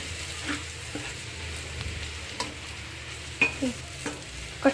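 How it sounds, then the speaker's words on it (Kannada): Coriander powder and chili powder frying in oil in a pan for an egg and chicken sambar, a low, quiet sizzle with occasional soft scrapes and stirring taps, close. "ಧನಿಯಾ ಪುಡಿ ಮತ್ತು ಖಾರದ ಪುಡಿ ಎರಡನ್ನೂ ನಾನು ಎಣ್ಣೆಗೆ ಹಾಕ್ಕೊಂಡಿದ್ದೀನಿ"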